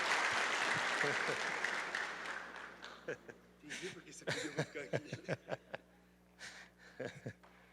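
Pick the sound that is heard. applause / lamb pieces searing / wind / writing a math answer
applause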